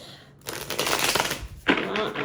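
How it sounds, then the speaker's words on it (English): Tarot cards being shuffled by hand, a papery riffling rustle that runs in two bursts, close and moderately loud, with a brief pause between them. "while I shuffle the cards up"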